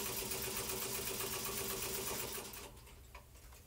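A sewing machine stitches in the ditch along the seams of a quilt, a fast steady whirring that runs continuously, then slows and quiets near the end as the stitching eases off.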